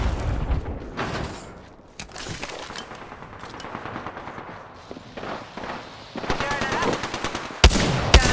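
Rapid weapon fire and bursts of missile launches in an Apex Legends match, loud and dense with repeated booming volleys, heaviest near the end, with faint voice chat underneath.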